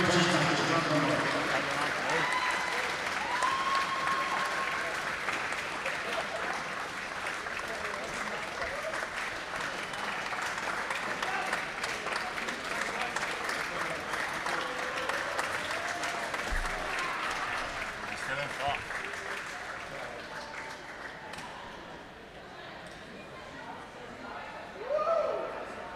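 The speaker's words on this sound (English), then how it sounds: "we deserve a big round of applause" Sustained applause from a crowd at the Irish Senior Cup men's final in 2022, honouring the referees, broad and steady for most of the span, then thinning and tailing off near the end, with faint voices mixed in.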